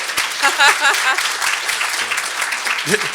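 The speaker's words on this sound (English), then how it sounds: "Don't clap beforehand, man." Audience applause at a distinguished speaker event, a burst of clapping in a hall with someone talking over it and voices rising from the crowd.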